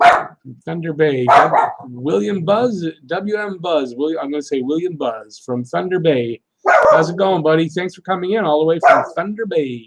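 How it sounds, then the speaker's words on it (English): A pet dog barks intermittently in the background while someone talks almost continuously during a hockey talk livestream. "That's my dog. It's her birthday today, so she gets to bark a little bit."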